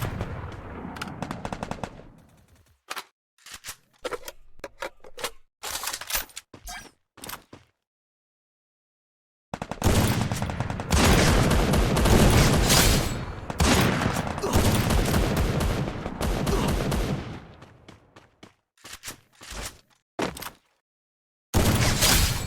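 Bursts of gunfire fill a Free Fire match, with rapid automatic volleys and single shots that break off into short silent gaps before another long, dense stretch of firing.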